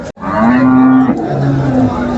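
A cow at the Baramati cattle market lets out a loud, close, drawn-out moo that dips and rises again over about two seconds, with little else around it.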